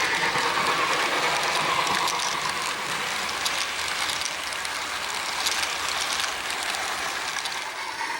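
Steam locomotive 2816 rolling along a former Erie Railroad line beneath the Jessup Bridge, a steady broadband clatter and hiss of wheels and cars with rhythmic metallic ticking, loud and continuous throughout with no voices.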